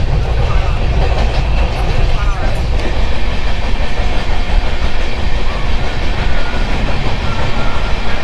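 The 13168 Kolkata Express rumbles loudly along the rails from inside a carriage, a dense continuous roar with faint rhythmic clatter throughout.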